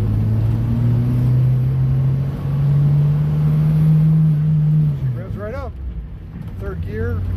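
A car engine hums steadily and then drops off as the driver shifts from first gear into third, with talk heard over the engine noise afterwards.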